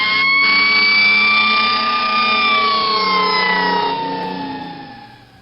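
A fire truck siren wails loudly and continuously at close range, its rising and falling tone sustained before fading toward the end, with no talking.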